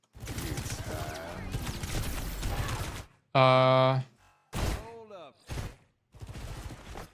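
Gunfire aimed at a ram vehicle in a team shooter match, with bursts of mechanical, ratcheting shots and game effects alternating with a player's talk, loud and close.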